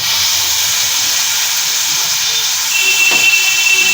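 Water poured into hot ground spice paste in a pan sends up a loud, steady steam hiss that stays close and even for the whole stretch, with no speech.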